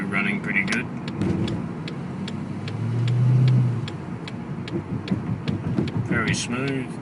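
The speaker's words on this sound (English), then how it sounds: "Car seems to be running pretty good." Ford Fairlane G220 with a 5.4 Triton V8 being driven on the road, a steady low engine hum and road noise running throughout with a brief swell midway, while a person talks over it.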